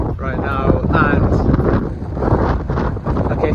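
Wind buffets a handheld microphone in the middle of a city, a loud, continuous low rumble with gusty surges throughout. A voice is faintly heard beneath it.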